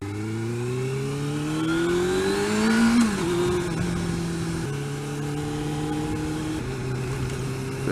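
A motorcycle accelerates under power, its engine note climbing steeply through a gear, dropping at the shift, then pulling up again through further gears, heard close and steady with wind noise.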